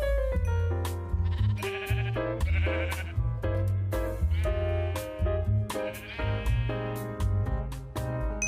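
Repeated bleats from a rainbow Jeb sheep in Minecraft, heard alone and fairly loud, with the wavering cries recurring across the clip.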